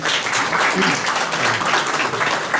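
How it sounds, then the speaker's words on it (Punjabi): Steady audience applause at a geography quiz event fills the whole stretch, dense clapping from many hands at an even level with a murmur underneath. "ਡਾਕਟਰ ਲਗਵੀਰ ਸਿੰਘ ਜੀ ਗਿੱਲ ਸਾਡੇ ਵਿੱਚ ਪਹੁੰਚੇ ਨੇ ਤਾੜੀਆਂ ਨਾਲ ਸਵਾਗਤ ਕੀਤੇ"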